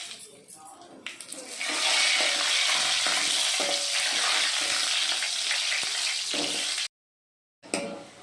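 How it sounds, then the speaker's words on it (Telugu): Green chilies and cumin seeds crackle and sizzle in hot oil in a pan, a steady loud hiss with a few pops that swells after the first second and holds, then cuts to a brief silence before resuming. "నూనె అయినాక జీలకర్ర వేసినాక మిర్చి వేయాలి"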